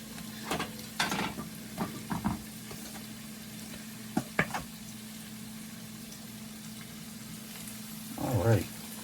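Chicken pieces dredged in flour hit hot ghee oil in a pan, setting off a soft sizzle with scattered clunks and spatters, and someone speaks close by.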